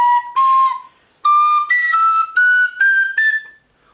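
Tin whistle climbing up the scale in a series of clear, bright, breathy notes, each held briefly with short gaps between them, close and loud with no voices.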